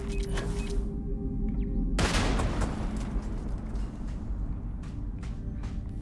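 Mines explode in Starfield, a sudden loud burst over a constant roar of combat noise and rumble, with further crackling impacts afterward.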